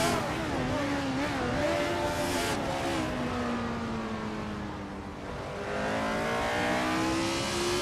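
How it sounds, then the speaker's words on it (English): A 1971 Brabham BT 3/4 Tour race car engine screams in a racing video game, a loud sustained high-revving whine shifting pitch steadily with no break. "Gliding Penguin is driving a 1971 Brabham BT 3/4 Tour"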